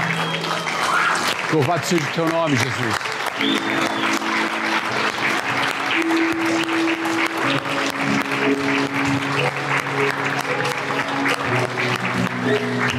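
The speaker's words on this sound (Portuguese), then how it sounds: "Dê uma salva de palmas a Jesus." A church congregation claps steadily throughout, broad and sustained, while a worship leader's voice and soft keyboard chords carry over the applause.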